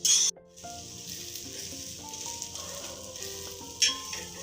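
Vegetable and egg paratha frying in a pan, a soft sizzle under a bed of music, with a brief loud burst of hiss at the start and another near the end.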